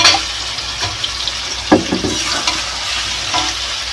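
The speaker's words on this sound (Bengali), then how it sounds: "মাংসটা ভেজে নিচ্ছি" Chicken pieces frying in a pan for chicken kosha, a continuous loud sizzle punctuated by scraping and clacking as the meat is stirred at irregular intervals, close by and without talk.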